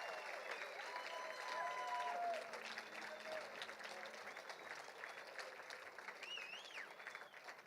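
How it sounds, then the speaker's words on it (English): A crowd applauds at a university football national championship ring ceremony, sustained clapping and cheering filling a large room, steady throughout with faint voices mixed in. "A round of applause for the 2024 Division II National Champions."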